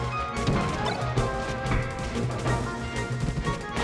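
Rapid hits in Super Smash Bros. Melee, a flurry of sharp smacking impacts and crashes layered over game music, loud and busy with many quick strikes in succession.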